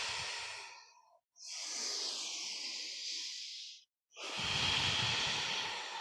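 Deep, slow exhales during a yoga breathing sequence, three long breathy gusts of air separated by short pauses, close and fairly soft with no talking.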